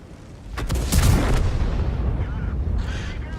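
A tank cannon booms in World of Tanks gameplay as a shot is fired at an M4A1, a loud close blast followed by a rumbling decay and lingering battlefield noise.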